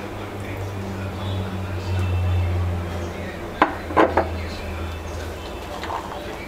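Macaroni is mixed for a chicken macaroni salad, giving a cluster of three or four quick clinks of a utensil against a bowl over a low, constant hum, with quieter shuffling before and after.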